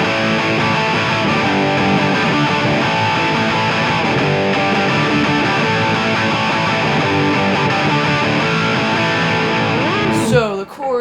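A song's pre-chorus played at full speed on a distorted electric guitar with power chords, a continuous thick driving sound for about ten seconds that stops abruptly at the end.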